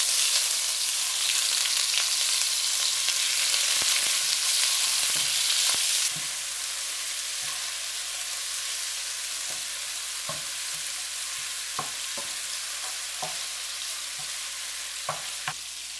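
Half a pound of 80-20 ground beef fries in a pan under a continuous sizzle, while a utensil breaks it apart with repeated scraping clicks and taps against the pan.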